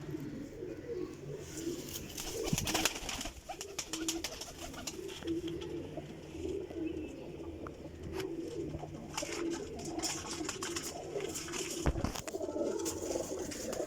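A golden pigeon of an old bloodline coos softly in a loft, low repeated murmurs under faint background noise and occasional knocks.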